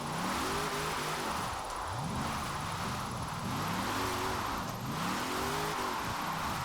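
The Hula Girl car in Forza Horizon 4 revs hard in third gear, its engine note climbing and falling in repeated sweeping waves under constant loud road and wind noise, with no talk.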